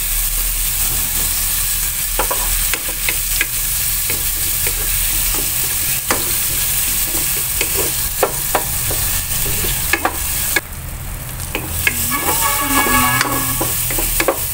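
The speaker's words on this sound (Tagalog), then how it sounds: "Lagay ko na agad guys. Sabay na magisa." Bottle gourd (upo) and sardines sauté in a pan over a gas burner, a loud, steady sizzle broken by scraping stirs and clinks of the utensil, with no talk.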